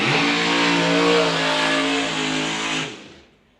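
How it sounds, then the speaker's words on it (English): A drag car doing a funny car style rolling burnout at a radial-tire drag race lets out a loud, sustained engine roar with tire noise for about three seconds, then cuts off abruptly. "Funny car style burnout too."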